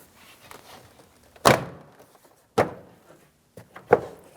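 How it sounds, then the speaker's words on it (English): A GMC Sierra 2500 HD door panel is tapped onto the door, giving three distinct firm thunks spaced about a second apart with faint knocks between, close and otherwise quiet. "then you can tap the door panel in towards the door"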